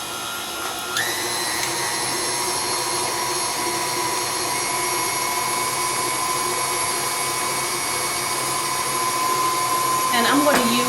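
An electric mixer creams pineapple upside-down cake batter, whirring steadily and loudly up close with a sustained motor whine that stays even throughout and shifts briefly near the end.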